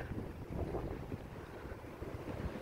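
Faint wind rumbles and buffets the microphone in low, steady gusts, with no voices.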